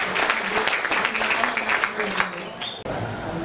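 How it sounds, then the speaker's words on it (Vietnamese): Audience applause at a year-end social gathering, a dense, steady round of clapping from a crowd indoors, with a voice and some tonal sound underneath before it cuts off abruptly near the end. "chúng ta cho một tràng pháo tay để cảm ơn."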